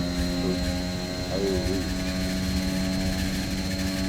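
An F1 2021 racing car on heavy fuel load, a steady, droning engine tone under light throttle, with pitch sweeping up briefly partway through, and someone talking over it.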